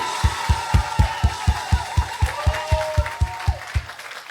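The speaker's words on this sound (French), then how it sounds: "est-ce que tu peux acclamer Dieu pour tous les prédicateurs?" A church congregation applauding in praise of God, clapping in unison with a strong steady beat, about four claps per second, close and loud over a sustained tone and murmuring voices.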